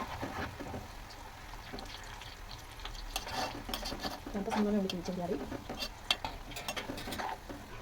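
Sliced onions fry in hot oil in a pan, a soft continuous sizzle with occasional stirring scrapes and clinks, while someone talks quietly over it.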